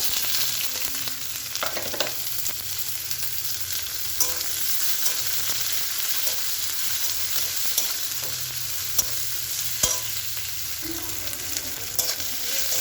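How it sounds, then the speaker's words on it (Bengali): Garlic frying in a kadai, with onion about to go in, a constant hiss of hot oil running throughout with occasional spatula scrapes and taps against the metal. "রসুনটা দিয়ে দিয়েছি আমি এতে কড়াতে, তারপরে পেঁয়াজটা দিয়ে দেবো।"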